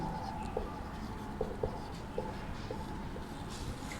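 Handwriting a Sanskrit word, faint scratching strokes with a few short taps of pen or chalk spaced irregularly over steady room noise, no talking.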